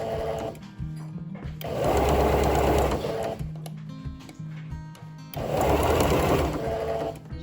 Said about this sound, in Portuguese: eu vim costurando aqui toda a volta